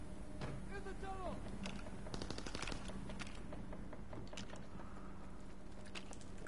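Video game gunfire heard through a tunnel firefight, rapid automatic bursts and scattered shots crackling at a distance, fairly faint under a constant background hum, with a player's voice talking over parts of it.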